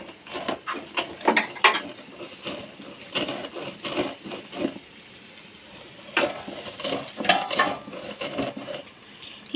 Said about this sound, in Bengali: পাঁচ ফোড়ন শুকনো লঙ্কা তো শিলে ডাস্ট করব